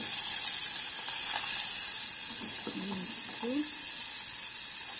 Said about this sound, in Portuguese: E agora nós vamos colocar um bacon, né? Uns pedacinhos de bacon, pra dar uma fritadinha aqui.